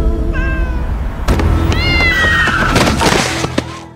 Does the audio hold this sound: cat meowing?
yes